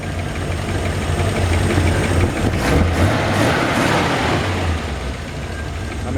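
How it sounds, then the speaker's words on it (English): A 1955 Chevrolet wagon engine idles steadily, a low, even rumble that holds fairly loud and close throughout, with no voices over it. "Engine runs good."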